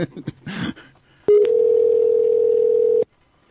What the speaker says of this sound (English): I'm calling the mobile.